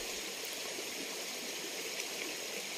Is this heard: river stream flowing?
yes